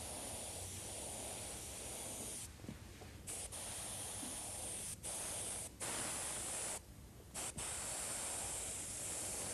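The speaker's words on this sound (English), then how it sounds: "The airbrush I'm using to do this is an Iwata HPC." Iwata HPC airbrush spraying paint onto a motorcycle helmet, a close, steady hiss of air running continuously with a few short pauses where the spray stops and restarts.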